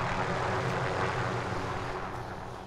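A helicopter flies nearby in a video game, a steady loud rushing engine roar that fades slightly toward the end, with no voices.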